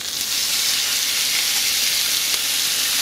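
Finely chopped chuck steak frying in a little oil in a pan, giving a loud, steady, close sizzle that hisses on without a break, no voices.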